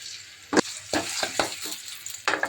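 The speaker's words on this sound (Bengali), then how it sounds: "অন্য তেল দিয়ে দিচ্ছি পেঁয়াজ কুচি আর রসুন কুচি দিয়ে দিচ্ছি" Chopped onion and garlic fry in hot oil for a dal tempering, a soft steady sizzle broken by several sharp scraping stirs of a spoon against the pan, close and without speech.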